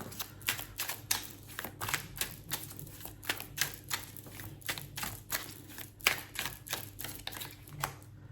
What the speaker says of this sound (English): Let me just keep shuffling more card.